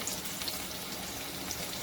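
Red chillies tempering in hot oil while being stirred, a steady close sizzle with fine crackling spits throughout, no voices.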